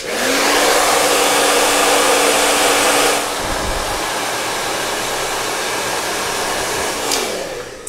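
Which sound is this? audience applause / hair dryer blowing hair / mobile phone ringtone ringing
hair dryer blowing hair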